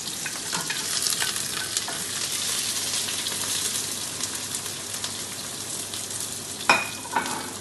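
Chopped shallots fry in a hot pan for stuffed squid in tomato sauce, a steady bright sizzle with a couple of sharp stirring clatters near the end and no talking.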